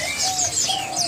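Local zebra doves (perkutut) at a bird market call in short overlapping coos and chirps, close and fairly loud against a busy background of other birds.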